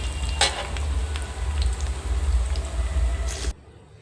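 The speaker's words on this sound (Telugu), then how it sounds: "తాలింపు అయితే బాగా వేగిందండి. శనగపప్పు, మినప్పప్పు, ఎండుమిర్చి బాగా వేగింది." Urad dal, chana dal and dried red chillies fry in hot oil for a tempering, a steady close sizzle and crackle that runs unbroken for about three and a half seconds, then cuts off abruptly.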